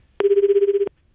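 A telephone rings once, a loud, clear electronic trill lasting under a second with fast rapid pulsing, alone against near silence.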